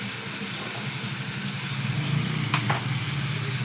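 Prawns sizzle and fry steadily in a pan with browned onions, chilli powder and ginger-garlic paste, a close, continuous crackling hiss with a brief stirring scrape near the end.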